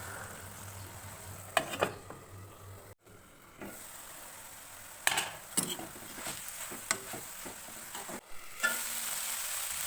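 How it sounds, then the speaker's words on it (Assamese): Jilmil greens frying in a wok while being stirred, a steady sizzle with scraping spatula strokes in bursts, a brief pause partway through and a near, moderately loud clatter toward the end. "এতিয়া ঢাকনখন অঁতৰাই এবাৰ লৰাই লৈছোঁ।"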